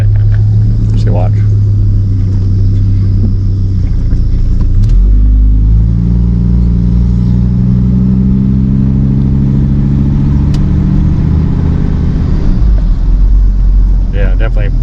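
A 1996 Dodge Ram 2500 pickup with a V-10 engine rolls along with a loud, steady low engine rumble that dips and shifts as the truck slows under braking, with a voice talking over it.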